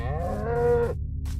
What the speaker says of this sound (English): The moody variant of a cow can be heard bellowing in the distance.